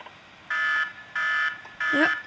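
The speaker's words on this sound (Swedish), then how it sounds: "nu ringer min timer" A kitchen timer rings in three loud, evenly spaced electronic beeps, close by, with a voice starting briefly under the last beep.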